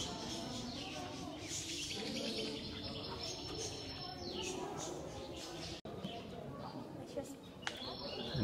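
Caged parrots of various sizes chirp and tweet in an indoor garden in Dubai, their calls fairly faint and blended into a steady background hum of the space.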